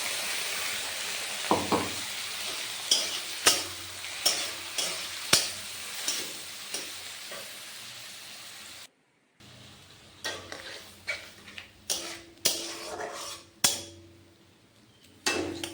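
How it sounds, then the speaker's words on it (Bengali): Ivy gourd fries in a pan with poppy seed paste, a continuous sizzle punctuated by regular spatula scrapes and clicks against the pan, briefly interrupted by silence midway before the stirring resumes. "কুঁদরিটা ভাজা হয়ে গেছে, এবার এর মধ্যে পোস্ত বাটা দিয়ে দিলাম"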